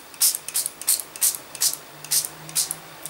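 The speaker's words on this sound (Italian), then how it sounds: "Adesso io prendo anche questo glitter spray, che si vedrà veramente pochissimo." Glitter spray from an aerosol can misted onto a handmade autumn scrapbooking card, about eight short hissing bursts in an even rhythm, close and fairly loud, with no talking.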